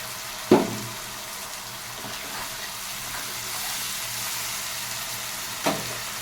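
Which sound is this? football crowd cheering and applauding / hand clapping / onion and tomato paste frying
onion and tomato paste frying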